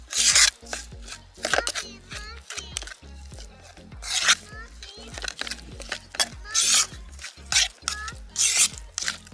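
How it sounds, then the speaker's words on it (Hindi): Marinade spices with mustard oil being mixed in a bowl, a fairly close, irregular run of scraping and tapping strokes from a spoon against the dish, with quieter gaps between bursts. "अब हम इन सभी को, इस मिश्रण को अच्छे से मिक्स कर लेंगे।"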